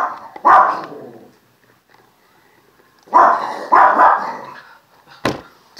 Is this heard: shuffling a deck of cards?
no